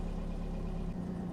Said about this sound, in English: The choke's all the way in as well now, so it is idling quite happily